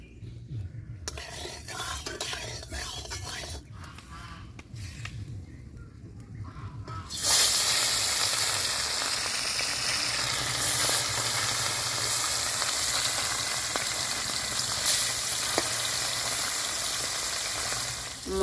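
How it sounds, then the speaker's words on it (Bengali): Loud, steady sizzling of bata fish frying in hot mustard oil in a kadai, a broad hiss that jumps up sharply partway through and holds continuously. "মাছগুলো ভেজে নেবো"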